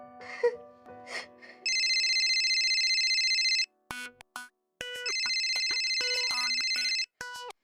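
A telephone rings in two long electronic bursts separated by a short gap, with brief voices and clatter before and between the rings.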